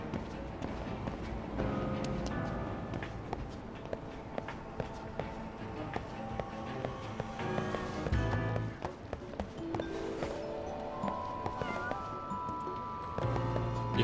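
Cats meow in the video game Lost Judgment, with repeated calls over a busy, layered game soundtrack of music and footsteps, moderately loud and mixed among other game sounds.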